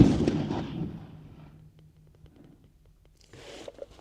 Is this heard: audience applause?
no